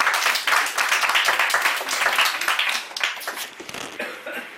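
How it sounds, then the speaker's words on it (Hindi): Dense audience applause from a crowd at an indoor product boot camp session, steady clapping that swells and thins over several seconds, with a few coughs mixed in. "एक जोरदार ताली बजाओ सभी।"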